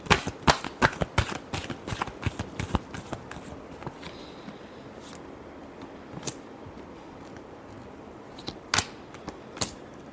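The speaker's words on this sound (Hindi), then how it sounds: "Last shuffle." Tarot cards are shuffled by hand in a rapid flurry of crisp riffling snaps, then slower scattered flicks and taps, close and fairly quiet with no talking.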